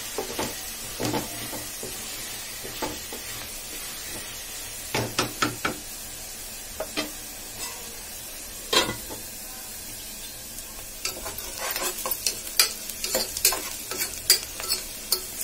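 Onions frying and softening in a pan, a steady low sizzle punctuated by repeated sharp knocks and scrapes of a spatula against the pan, clusters of taps growing busier toward the end.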